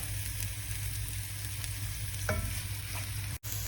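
Onions fry in vegetable and olive oil in a hot pot, a steady close sizzle with a brief stirring scrape partway through.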